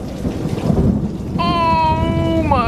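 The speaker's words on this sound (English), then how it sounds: "This storm is insane right now." A thunderstorm rumbles steadily with rain pattering on a surface, and a sustained tonal sound joins partway through. It is loud and continuous, with no talking.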